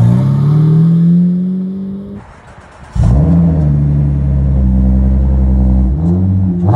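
A Lamborghini engine revs loud and close, holding a steady high drone that drops briefly and then surges back into a strong sustained rev with changing pitch.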